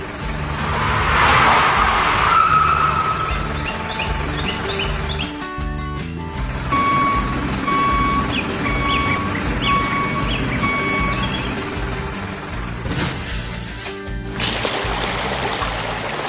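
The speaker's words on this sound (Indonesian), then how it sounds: "Truk pickup hijau tiba membawa kejutan air segar untuk melengkapi proyek kita hari ini." A green pickup truck arrives at an animated construction site where a red crane and yellow concrete pump build a wind turbine foundation. A steady engine drone runs under repeated high tonal reversing beeps, with a few brief louder bursts and no talk.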